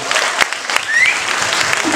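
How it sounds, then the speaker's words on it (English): Wedding guests give a round of applause at a reception, dense, fairly loud clapping filling the room continuously, with faint voices mixed in. "round of applause."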